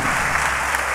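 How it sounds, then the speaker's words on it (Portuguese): Dense applause from a crowd gathered at a thanksgiving church service fills a single second, loud and even, with no voices standing out. "Vocês querem aplaudir Jesus?"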